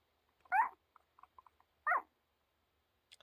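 Two-week-old Corgi puppies let out two short, squeaky whimpering yelps close by, separated by a gap filled with tiny soft squeaks and snuffles, with no talking.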